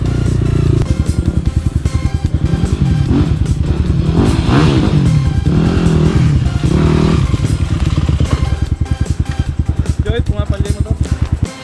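Two 250cc motorcycles ride a dirt trail, one engine loud and close, throbbing in a fast steady pulse with revs that rise and fall, plus some clatter and thumps.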